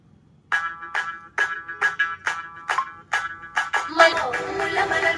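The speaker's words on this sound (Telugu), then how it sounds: "మీకు ఒక సాంగ్ ప్లే చేసి పెడతాను." A BYJU's tablet's built-in speaker plays a song, a bright melodic tune with rhythmic plucked notes that are fairly loud and close, and fuller sound builds near the end.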